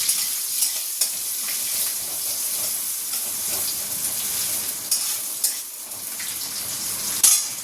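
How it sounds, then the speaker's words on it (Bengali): Spices sizzle in hot oil for tempering dal, a steady broadband hiss of frying with occasional pops and stirring clatters, close and continuous throughout with no talking. "নিচে এসেই আগে রান্না শুরু করে দিয়েছি। ডাল ফোড়ন দেবো।"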